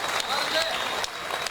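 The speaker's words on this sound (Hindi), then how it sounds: "हमारे दोस्त तो ताली बजा दीजिए एक बार" Audience applause at a stage performance, a short burst of steady clapping from a crowd that runs through the clip, with a voice faintly over it.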